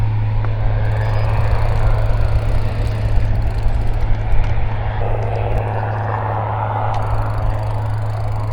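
A large airliner descends toward landing at Brisbane Airport, its engines a loud, steady roar with a constant low hum that holds throughout, heard near and unbroken.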